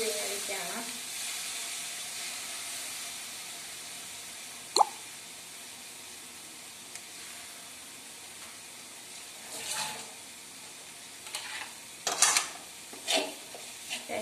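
A spoon stirs chicken masala in a pan, with a soft steady sizzle and occasional scrapes and plops, fairly quiet and close, with no talk over it.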